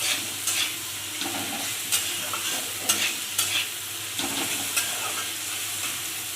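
Potatoes and turmeric frying in white oil in a pan for sabudana khichdi, stirred with a utensil; a steady close sizzle runs throughout, with sharp scraping strokes every second or so, no talking.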